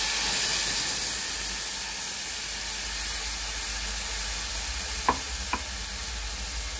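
Hot oil sizzles steadily in a pan where cumin seeds fry with boiled onion and cashews, a constant close hiss with two brief clinks of a utensil near the end.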